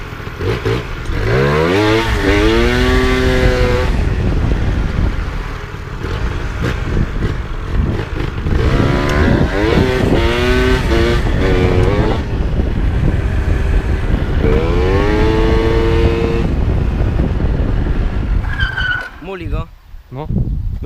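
A Yamaha Booster 70cc scooter revs repeatedly during wheelie practice, its engine whine climbing and falling in loud, close bursts over about twenty seconds, with voices nearby.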